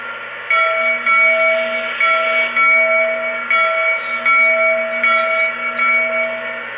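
A Lionel Legacy C&O F-19 Pacific model train's steady multi-tone whistle sounds in repeated long blasts with short gaps, loud and close, over a low constant hum.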